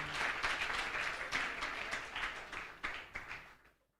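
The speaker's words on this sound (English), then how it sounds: "I think Rogers deserves a very strong hand clap." An audience at an agriculture event gives a round of hand clapping: a steady, fairly soft wash of many hands lasting a few seconds, then fading out to quiet.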